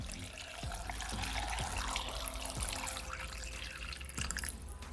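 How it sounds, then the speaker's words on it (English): Water poured from a container into a blender jar holding carrot and ginger for juice, a steady splashing trickle with a few drips, close and alone. "I'm gonna add at least 2 cups of water."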